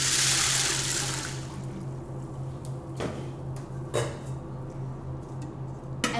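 Nine cups of water poured over three cups of dry beans to soak: a brief, bright rushing splash at the start that fades, followed by a low steady hum and a couple of faint clicks.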